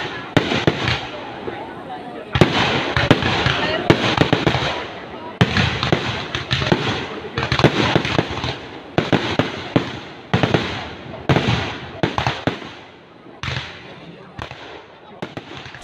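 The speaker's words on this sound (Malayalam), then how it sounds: "ഗ്രാമോത്സവ വട്ടംകുളത്തിന്റെ നേതൃത്വത്തിൽ നടന്ന ചൈനീസ് വെടിക്കെട്ട് മഹോത്സവത്തിന് നിറം പകർന്നു." Chinese-style fireworks burst in rapid, loud volleys of cracks and pops at a temple festival, coming in dense clusters with short pauses between, continuing throughout.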